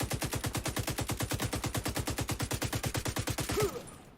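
Sustained automatic gunfire in a video game, a rapid steady stream of about thirty shots in four seconds, loud and even, ending abruptly.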